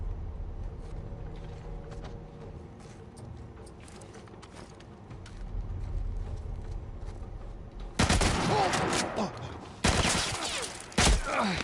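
Gunfire in The Last of Us Part I remake on PS5, a dense burst of loud shots and bangs that arrives after a stretch of quieter game ambience and keeps going to the end.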